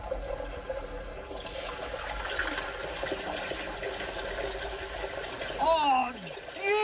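Water sprays and hisses out of a toilet in a steady, close rush lasting several seconds, and a voice briefly cries out near the end.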